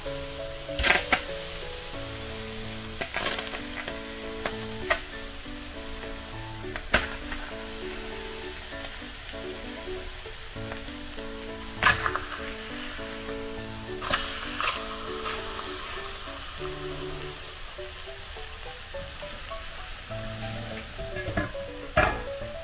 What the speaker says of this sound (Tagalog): Iprito natin siya sa sarili niya mantika.